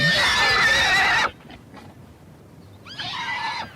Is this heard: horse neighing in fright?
yes